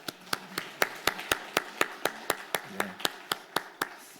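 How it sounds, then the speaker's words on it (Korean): Church congregation clapping in welcome during a Wednesday worship service: a slow, steady beat of about sixteen loud, evenly spaced claps in unison, with a faint murmur of voices underneath. "크게 환영하면서 박수하겠습니다."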